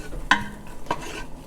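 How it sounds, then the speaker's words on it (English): Vegetables sauteed with a dash of salt in a pan for taco soup, a soft close sizzle under a few sharp clinks and scrapes of stirring, no voices. "And you're just gonna saute those around a bit."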